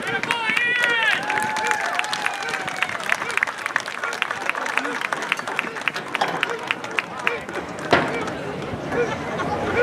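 Crowd applause and cheering at a high school varsity football game honoring senior band members and parents, a steady wash of clapping and chatter that carries through the stretch, with a voice audible near the start.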